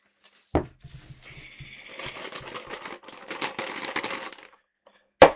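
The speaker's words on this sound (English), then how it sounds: "that is a cup of ice" A cup of ice being handled while making a highball cocktail, with close crisp clinks and rattles of cubes shifting and tumbling for several seconds, bracketed by sharp knocks of the cup being set down.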